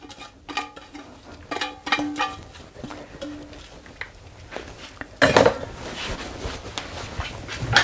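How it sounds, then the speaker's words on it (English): Sweet potato pakora vegetable mixture being combined in a bowl: scattered light clinks and taps of a utensil, then a louder stretch of wet stirring and scraping, close by, with no talk. "just mix that in really well and just make sure all of that mixture is well combined"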